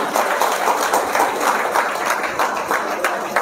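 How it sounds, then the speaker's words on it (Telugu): A crowd in an auditorium claps in a dense, steady round of applause, moderately loud and continuous for a few seconds with a murmur of voices beneath. "ఒక్కసారి బిగ్ రౌండ్ ఆఫ్ అప్లాజ్"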